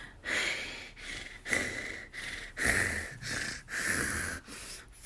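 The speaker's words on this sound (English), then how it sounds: "Can't you take a damn fucking video without me hearing all that damn breathing, please?" Heavy, rhythmic breathing from a person filming a hotel room, close to the microphone, with about six loud, raspy breaths in a row and no speech.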